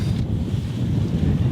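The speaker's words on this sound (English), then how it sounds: "It's just very gusty right now." Gusty wind buffets the microphone on a sailboat off St Martin, a loud low rumbling roar with water wash beneath it, continuous and close, with no one speaking.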